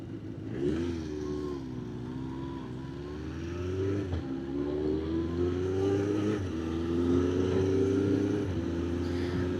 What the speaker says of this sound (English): It's that long since I've ridden a 4-cylinder engine.